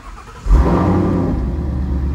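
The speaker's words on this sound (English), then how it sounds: "So now we're going to start the car up" A Ford Mustang S550 engine cranks and catches after a short quiet moment, settling into a loud, steady idle rumble close by.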